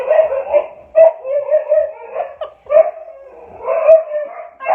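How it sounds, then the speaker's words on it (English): Several dogs bark and howl in a loud, close burst of overlapping yips and bow-wows, rising and falling irregularly over a few seconds. "There go my dogs."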